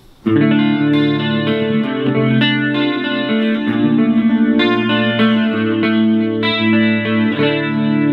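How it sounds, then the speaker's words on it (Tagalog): A clean-tone electric guitar through a Positive Grid Spark Mini with chorus, delay and reverb plays sustained chords and notes that shimmer and ring out, bright, spacious and alone. "Mahilig ako sa chorus na merong delay, na merong reverb."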